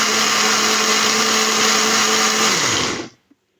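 A loud blender whirs steadily up close for about three seconds, chopping tomatoes, then winds down and stops, followed by a faint click.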